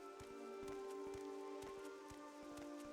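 Rain falls in a video game, a faint, steady hiss of drops with occasional ticks beneath sustained background music tones.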